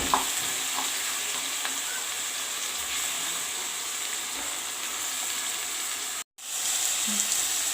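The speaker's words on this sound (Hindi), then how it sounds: "अब देखियो एमे अहाँ मटर द दिलिए, टमाटर द दिलिए, सब चीज में फ्राई भ रहल है।" Peas and tomatoes with onion and spices frying in a pan, a steady, moderately loud sizzle with occasional stirring scrapes and a brief drop to silence near the end.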